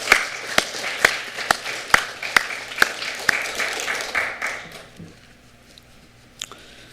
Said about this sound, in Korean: 하나님께 영광의 박수를 한번 돌리십시오